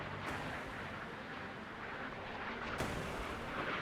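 In the naval combat game Sea Power, incoming missiles strike amid a continuous roar of rumbling explosions and artillery-like blasts, with a sharper burst near the end.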